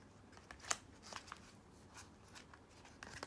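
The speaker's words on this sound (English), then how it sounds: "enjoy shuffling this deck." Hoping Soul Lenormand card deck being shuffled by hand, quiet crisp riffles and snaps of the cards in short bursts, faint and close.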